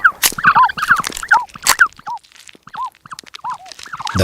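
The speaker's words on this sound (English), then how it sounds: "A gentle cheeping from within the eggs" Repeated high, thin chirps come from a hatching chick, rhythmic and closely spaced, mixed with a few sharp taps and rustles, close and clear with no talking.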